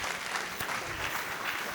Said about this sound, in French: Nous allons donc nous arrêter là parce que nous avons largement dépassé le temps. Nous allons remercier et applaudir